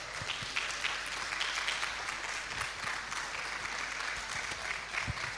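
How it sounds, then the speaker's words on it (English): Conference audience at a corporate women's leadership summit claps steadily in a hall, a dense, moderately loud wash of many hands heard from a distance with no voices on top. "Can you clap a little bit more?"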